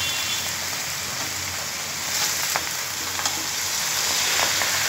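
Lau shak greens fry in a hot pan, a continuous bright sizzle with occasional crackles and pops, steady and close, alone without any talk.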